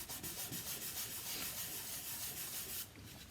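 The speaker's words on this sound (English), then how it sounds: "Rub your shape so it stays down nice and tight." Paper being rubbed down by hand onto a paper sheet in a first-grade shape-building craft project, making a steady, soft, close scratchy rubbing that runs continuously and eases off near the end, with no talking.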